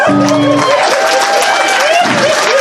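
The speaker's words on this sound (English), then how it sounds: "Guys, give him a round of applause." A convention audience at a charity event applauds and cheers steadily, a dense wash of clapping under crowd noise, with a brief voice and sustained tones near the start.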